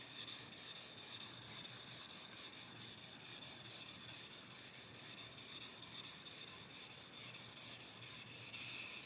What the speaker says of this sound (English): I can feel it sharpening through all the edge, like doing something positive for the blade.